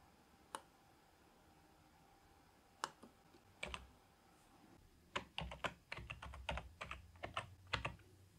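Typing on a computer keyboard while entering a file name in Excel, starting with a few sparse key clicks and building into a quick, irregular run of close, crisp keystrokes.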